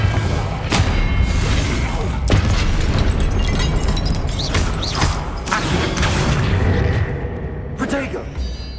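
Confringo explosive spell blasts in Hogwarts Legacy, several loud booming bursts through a dense, continuous din of combat effects with a voice speaking over it.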